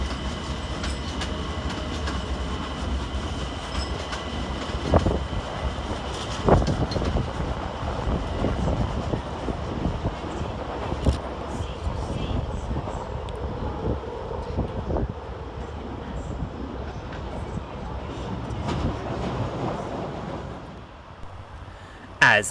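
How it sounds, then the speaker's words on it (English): London Overground Class 378 unit 378212 pulls out of Stratford station on the far side with a rumbling roll and clickety-clack of wheels, steady for some twenty seconds. A faint voice can be heard beneath it. "Over on the far side we see the departure of 378212, working the 2006 London Overground service to Clapham Junction"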